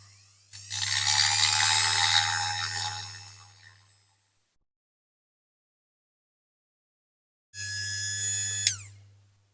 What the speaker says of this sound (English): just use this jeweler's attachment to just try and get rid of that casting line.